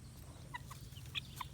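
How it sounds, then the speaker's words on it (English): A big rooster in a backyard flock with Wyandotte, Orpington and Barnevelder birds gives short clucking calls in the background, faint and spaced out over a low steady hum. "our main big rooster, who's the one who's talking very loudly behind me here"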